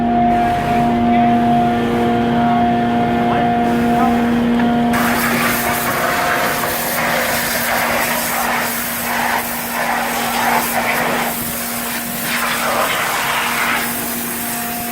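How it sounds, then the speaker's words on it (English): A vac truck and a wash truck work together on an exposed broken pipe in Calgary, giving a loud, steady mechanical roar with a constant tonal whine and hum, plus gushing, hissing noise that swells after a few seconds. "All done by the vac truck and the wash truck working in tandem."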